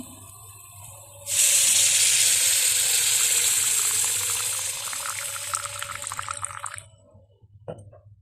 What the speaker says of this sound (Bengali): একটু পানি দিয়ে কষিয়ে নেব।